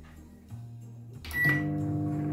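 A microwave oven is started by pressing its start button for a Christmas craft, giving a short beep followed by a steady low hum as it begins running.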